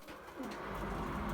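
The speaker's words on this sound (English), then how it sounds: "basically these here racing pigeons" Racing pigeons give soft, low cooing, faint and close, swelling slightly over a second or so against quiet background noise with no talk.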